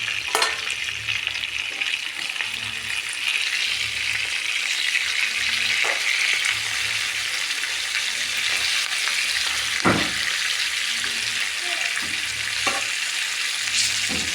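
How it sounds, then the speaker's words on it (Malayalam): Chicken pieces fry in oil in a pan with a steady, close sizzle throughout, broken by a few sharper crackles and occasional clinks of a utensil turning them. "കുറച്ച് വീതമിട്ട് നമുക്ക് പൊരിച്ചെടുക്കാം."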